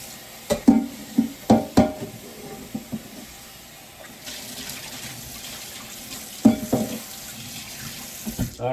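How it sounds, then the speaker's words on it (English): Tap water runs into a pot as it is rinsed out at a kitchen sink, with close splashing bursts, clanks and sloshing in uneven surges, a quieter steady trickle between them. "now rinse this pot out."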